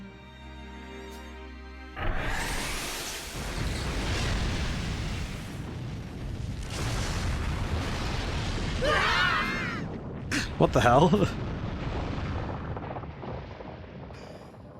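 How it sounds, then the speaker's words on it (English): Explosion in a tank's engine room in the video game Fuga: Melodies of Steel 2, heard as a loud burst after a musical intro, then rumbling blasts and crackling debris, with a brief startled voice partway through. "Explosion detected in the engine room. Being caused by an explosive device within the tank."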